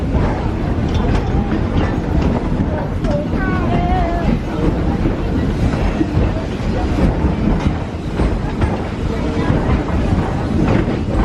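A heritage train rolls loudly and steadily along the track at Greenfield Village in Dearborn, Michigan, a continuous rumbling clatter with a brief metallic squeal.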